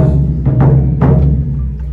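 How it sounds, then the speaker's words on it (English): A few deep hits on a Tahitian lead drum of wood and skin thump close by, with low resonant booms and a couple of sharper strikes over about two seconds. "So this is our lead drum."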